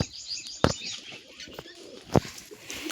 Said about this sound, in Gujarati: તો હજી ઘણા કબૂતર બેઠા છે